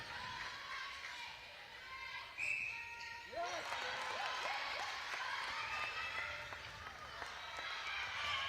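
Scotland fans in the crowd at a School Games netball match whoop and cheer, a loud, steady roar with rising whoops that swells after a short lull and runs throughout, with a commentator talking over it.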